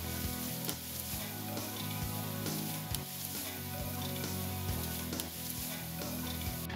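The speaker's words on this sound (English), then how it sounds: "We'll just saute these vegetables for about 20 to 25 minutes on a really nice low heat." Vegetables sautéing in a pan over low heat give off a continuous, even sizzle with faint stirring clicks, and a soft tonal background hum runs underneath.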